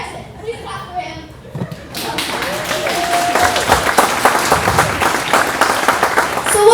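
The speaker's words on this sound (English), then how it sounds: "Please clap for him." A family gathering breaks into clapping that builds after a couple of seconds into a close, lively round, with voices talking over it.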